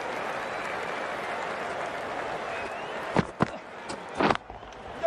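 A stadium crowd in the cricket video game Cricket 19 roars and applauds a shot in a steady, wide wash of cheering, with a few sharper thumps and bursts near the end.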